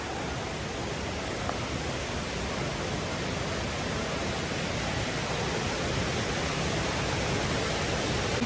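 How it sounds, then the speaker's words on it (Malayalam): A small waterfall in Kannur, swollen in the rainy season, gives a steady, dense roar of rushing water that holds constant and fairly loud throughout, with no voices over it. "ഭയങ്കര വെള്ളമാണ് കൊത്തി ഒലിക്കുന്ന വെള്ളം"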